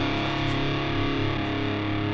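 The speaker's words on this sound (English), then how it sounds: "So let's riff out with no delay or reverb." Heavy metal guitar riff in drop D played dry, with no delay or reverb, through an Engl Powerball distortion pedal. A thick, saturated, continuous tone stays loud and dense throughout.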